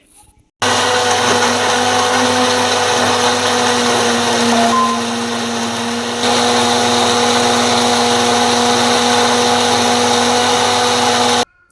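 An electric blender grinds mango chutney made with red chili and a splash of water, running loud and steady for about eleven seconds with a slight shift in pitch midway.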